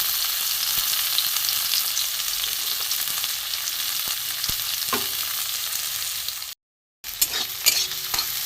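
Chopped garlic and tomato stir-frying in a pan, a close, steady hiss of sizzling with occasional scraping stirs, a brief dropout near the end, no voices.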